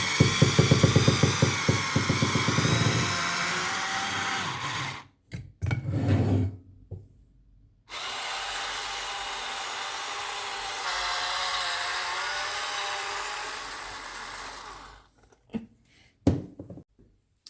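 Silvercrest electric corkscrew motor whirring to release a wine cork, a close buzzing drone in long bursts broken by short handling knocks and clicks.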